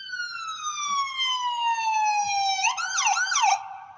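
An ambulance siren arrives at Jackson Memorial hospital: a long, steady descending wail gives way to a faster rising-and-falling yelp, fairly close and loud with no voices.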